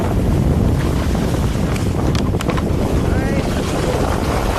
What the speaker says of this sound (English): It's so windy on and off.